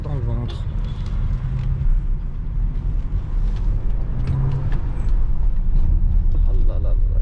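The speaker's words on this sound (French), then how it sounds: "Oh là là là, il fait un sacré bruit déjà." A Bentley Bentayga with 608 hp, driven in sport mode in Dubai, gives a steady loud low engine rumble that swells as it accelerates, running continuously near and under people talking.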